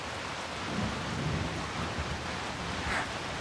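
Steady heavy rain pours down with low rolling thunder rumbling beneath it, a constant dense hiss with no voices.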